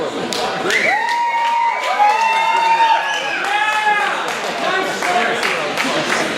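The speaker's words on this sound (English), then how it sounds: "Let's cheer for Create." A live audience cheers and claps for a startup pitch at an investor demo event, with mixed shouts and whoops over scattered applause and overlapping voices throughout.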